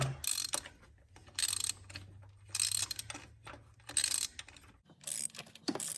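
Ratchet wrench loosening an oil cooler bolt on a 2014 Dodge Journey 3.6 AWD, about six bursts of rapid clicking pawl strokes separated by short pauses, close and clear with no talking.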